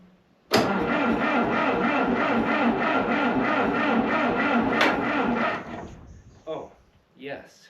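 An International TD9 bulldozer with a cracked head cranks and fires, a loud rough chugging engine rumble that runs for about five seconds, then dies away, followed by a few faint knocks and brief sputters.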